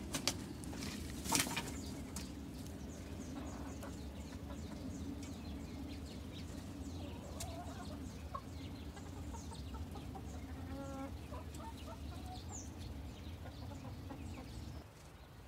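Chickens on pasture cluck and murmur softly throughout, with scattered short calls, a burst of wing flapping near the start and a steady low background hum.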